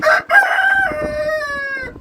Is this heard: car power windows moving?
no